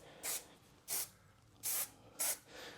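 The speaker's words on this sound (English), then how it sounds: "what I'll do is I'll spray inside" Four short, quiet bursts of spray hiss, evenly spaced, close by, with near silence between them.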